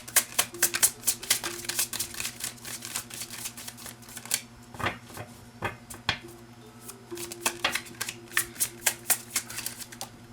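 Tarot cards are shuffled and drawn by hand in quick flicking riffles and soft slaps, close and crisp, pausing briefly in the middle before resuming, over a faint steady hum.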